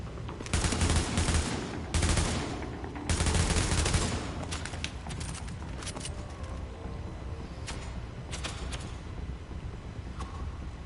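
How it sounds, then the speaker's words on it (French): Automatic gunfire from The Division video game rattles out in loud, dense bursts during the first seconds, then thins to scattered, quieter shots and impacts. "D'où est-ce que viennent les tirs qui m'ont touché?"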